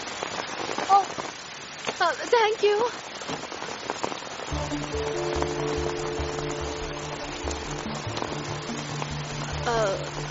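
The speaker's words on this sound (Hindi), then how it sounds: "बारिश हो रही है।" Rain falls steadily, a continuous hiss of drops on surfaces heard throughout. Voices speak over it at the start, and a soft music score enters partway through.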